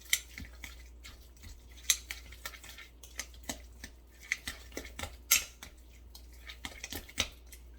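Guacamole being stirred together in a bowl, a run of soft scraping and clicking utensil strokes against the bowl at an irregular pace, close and fairly quiet with no talking.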